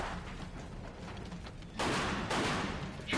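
Bursts of dense, rattling gunfire from the game Mafia II: Remastered erupt in quick succession, loud and continuous, with heavier volleys kicking in partway through; no speech.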